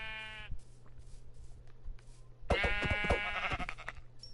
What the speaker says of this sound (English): We'll go ahead and kill this last sheep, and hopefully the rest of the population survives.